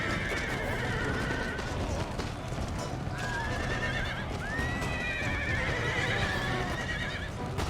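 Horses whinny repeatedly amid the steady clatter of hooves in Empire: Total War battle, several shrill neighs rising over a loud, dense cavalry din with someone talking throughout.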